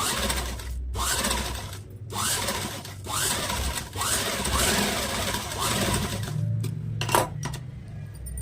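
A sewing machine stitches along a marked line on a princess-cut blouse, running in several short, close bursts of rapid needle clatter separated by brief pauses.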